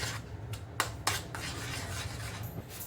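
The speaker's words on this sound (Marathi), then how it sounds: "फेटण्याने फेटून घेतलं तरी चालेल फेटण्याने पण फेटलात तर सर्व एकत्र होईल" Whisking aloo paratha batter in a bowl with a whisk, a steady rubbing, scraping sound with a couple of sharper clinks near the start, close and continuous with no talk.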